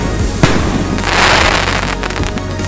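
A Gold King Willow canister firework shell with crystal crown and golden blossom launches with a sharp thump, then bursts into a broad crackling, hissing wash that swells and fades over a couple of seconds, heard from a moderate distance.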